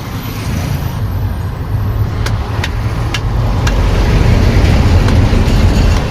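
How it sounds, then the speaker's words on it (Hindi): Highway traffic roars past at a roadside tyre puncture-repair shop: a dense, loud rumble of passing vehicles that swells steadily, with a few sharp clicks or clanks in the middle. "और देखो ये हाईवे चल रहा है।"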